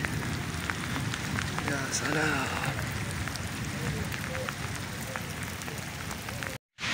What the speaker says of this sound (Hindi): अब शुरू हो गई ज़्यादा बारिश।